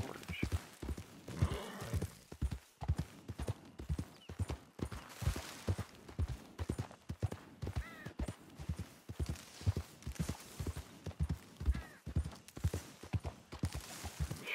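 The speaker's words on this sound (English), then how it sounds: "I'm sure my horse is probably more tired than I am of riding through cactus." Horse hooves clip-clop at a steady riding gait in Red Dead Redemption 2, rhythmic close thuds repeating throughout through cactus-filled desert terrain, with a faint occasional whinny.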